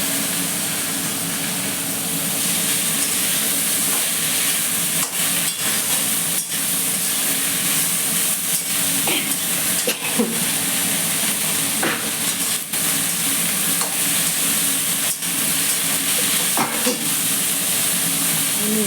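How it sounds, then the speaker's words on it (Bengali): Kharkol leaves fry in a pan with a loud, constant hiss of steam, broken by faint scattered crackles and clicks over nearly twenty seconds. "সব আমি ভেজে নিলাম, ভেজে শাকটা দিয়ে দিলাম।"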